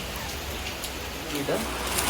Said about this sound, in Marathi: बाहेर पाऊस आहे